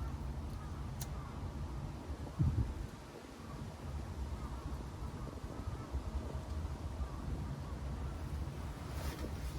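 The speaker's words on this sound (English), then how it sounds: "Come on, stupid wind." Steady wind buffeting a microphone on a hilltop mountain park, a constant low rumbling roar that swells briefly near the start and then holds at an even level throughout.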